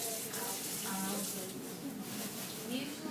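Liquid pours steadily into a water pollution model standing in for septic tank runoff, a continuous soft splashing gush lasting throughout at low volume, with faint voices in the background.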